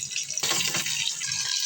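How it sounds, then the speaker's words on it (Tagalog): Water poured into a cooking pot of mung beans, a steady broadband gush that surges louder partway through and keeps running without pause. "lagyan natin ng tubig"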